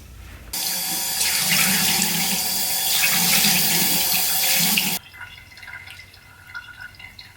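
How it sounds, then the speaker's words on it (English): Water runs steadily from a bathroom tap into a sink during face washing, a loud continuous splashing stream lasting about four and a half seconds before cutting off abruptly, leaving faint drips and quiet room noise. "so I'm gonna wash my face"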